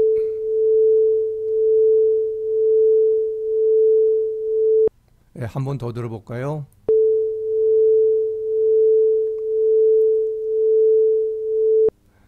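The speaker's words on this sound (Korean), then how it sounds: "이 울렁거리는 소리를 한번 들어보도록 하죠" A pure sine tone held steadily with a slow, regular pulsing wobble in loudness, demonstrating vibrato, loud and alone. It is broken midway by a short spoken phrase, then the same wobbling tone resumes.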